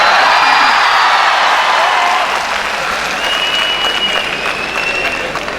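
A large student audience at a college festival applauds with steady, loud clapping and cheering throughout, continuous and close, with a faint whistle-like tone drifting over the crowd.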